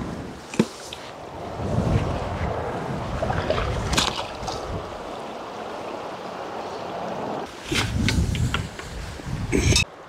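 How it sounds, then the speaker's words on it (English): Strong wind at a riverside campsite, a steady roaring rush with gusty swells and occasional knocks and flaps, continuous throughout and loudest toward the end. "It's gotten quite windy"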